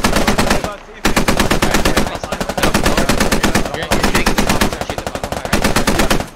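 Sustained automatic gunfire in the Battlefield-style video game SquadOps, long rapid bursts broken by brief gaps, loud and close with no talking.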